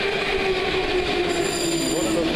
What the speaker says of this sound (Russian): Вот такое тут метро.